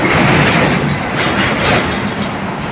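A BTS Skytrain on Bangkok's Blue Line runs along a curved elevated track, giving a steady, loud rumble and rattle of wheels on rail with no voices.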